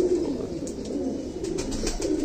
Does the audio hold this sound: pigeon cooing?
yes